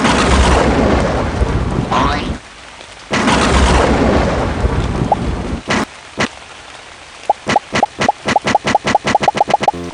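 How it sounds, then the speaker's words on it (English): Cartoon rain and thunderstorm effect in a Scratch animation: two loud bursts of rumbling thunder over rain, then a few sharp isolated drops, followed by a quickening series of crisp, evenly spaced plops near the end. "I'm gonna summon a rain cloud."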